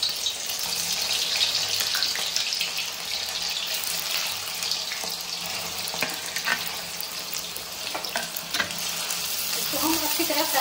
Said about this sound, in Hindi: जब तक ये फ्राई हो रही